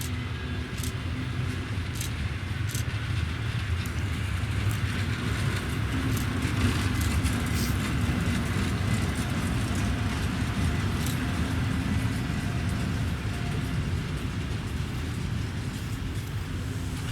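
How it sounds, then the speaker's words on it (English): A Red Rattler train pulls out of the sidings toward platform 1 with a steady, loud rumbling roar of motors and wheels, with rhythmic clicks over the rails. "Here we see the train pulling out of the sidings it was sitting in for lunch break into platform 1"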